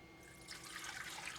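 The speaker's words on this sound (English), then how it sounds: "So we're going to be adding milk and water." Milk and water pour into the pan of a KEEPEEZ 2.2 lb bread maker, giving a faint, soft, continuous liquid trickle and splash up close in a quiet room.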